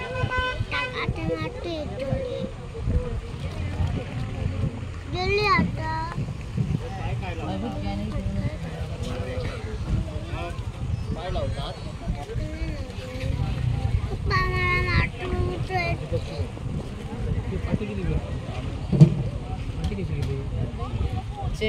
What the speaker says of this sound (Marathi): आता ही दुसरी होडी इली आहे मासे घेऊन